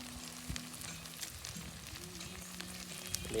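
Chicken frying with onions in a pan on a home kitchen stove, a steady soft sizzle with a few clinks of stirring and brief tonal hums, fairly quiet and without talk.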